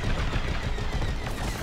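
Laser fire hitting a starfighter in Star Wars Squadrons, a dense continuous barrage of loud crackling impacts and blasts filling the whole moment, with no talk over it.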